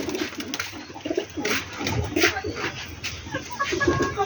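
Racing pigeons coo in a steady run of soft, low, throaty calls that repeat close by, with no talking over them.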